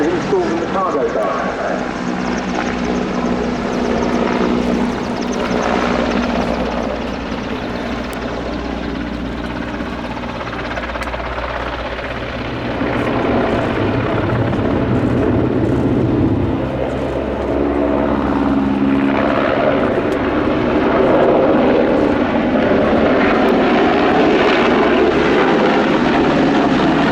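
A Leonardo AW101 Merlin helicopter of the Portuguese Air Force flies a display at an air show, its rotor and turbine roar loud and continuous beneath a commentator talking over the whole clip.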